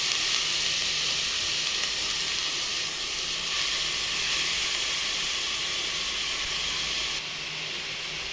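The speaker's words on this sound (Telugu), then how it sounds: "స్టీల్ గిన్నె తొందరగా వేడెక్కిందండి దీంట్లోకి అయితే క్యారెట్ కూడా వేసేసుకుందాం" Steady sizzling hiss of carrots frying in hot ghee in a steel pot, continuous and close, easing slightly toward the end.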